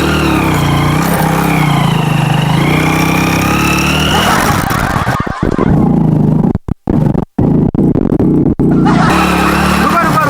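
A car engine runs loud and steady throughout, with low rumbling harmonics, while people talk over it in Hindi and the sound briefly drops out and chops near the middle.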